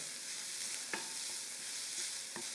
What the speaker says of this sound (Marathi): बारीक चिरलेला कांदा याला छान परतून घ्यायचं